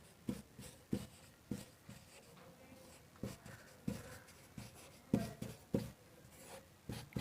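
A pen scratches out numbers while maths problems are worked, giving short, separate scribbling strokes in an irregular rhythm, close and fairly quiet, with no voices.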